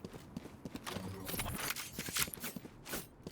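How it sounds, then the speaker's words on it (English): Footsteps in a tactical shooter video game, a quiet run of quick hard-surfaced steps with irregular rhythm that fades in and out, and no voices over them. "I hear footsteps in mid top."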